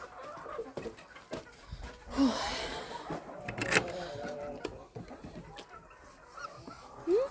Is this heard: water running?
no